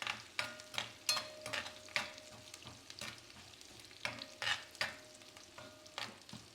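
Chopped green chilies fry in oil with onion in a pan, a steady sizzle broken by repeated bursts of scraping and stirring at an even rhythm, close and moderately loud, with no voices.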